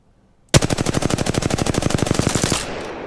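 Rapid automatic gunfire from a video game in a training room, a loud sustained burst of evenly spaced shots for about two seconds, then cutting off abruptly with a short fading tail.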